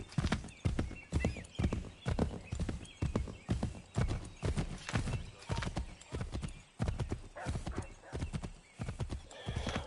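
A galloping horse in the Assassin's Creed 3 video game, rhythmic hoofbeats clip-clopping steadily and loudly up close, with occasional whinnies and a voice faintly in the background.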